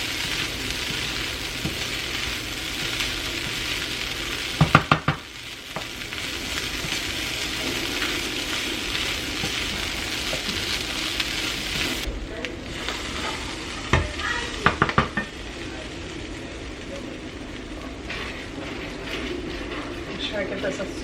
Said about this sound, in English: Make sure I give this a stir.